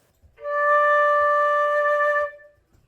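A single steady flute note, D, is held for about two seconds, clear and close, with no other sound.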